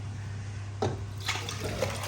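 Beef bone marrow broth for bulalo poured from a pot, heard as a few soft splashes and gurgles of liquid over a low steady hum.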